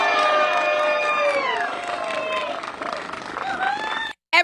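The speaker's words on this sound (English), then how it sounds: "Uninformed people in the back are cheering" Crowd cheering and whooping at a Social Security protest, a dense burst of many voices close by that gradually thins, with a short drop near the end before the noise resumes.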